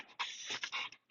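Puppies pant and snort close by while play-fighting, a short burst of quick, breathy panting with rough snuffles.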